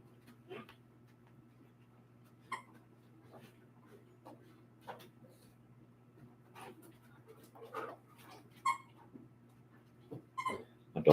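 A dog whimpering and panting indoors beside a low steady hum, soft scattered whines and breaths coming in irregular bursts, fairly faint throughout.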